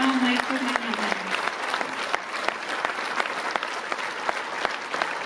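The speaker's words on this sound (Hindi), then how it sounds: "तालियां जारी रखिएगा जब तक यहाँ माइक पर नहीं आता है" Applause at an International Nurses Day awards programme, a moderately distant, steady crowd clapping with sharper individual claps popping out, while a voice briefly speaks at the start.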